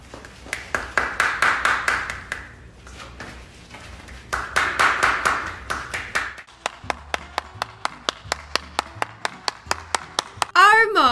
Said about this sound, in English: I was wondering who's clapping then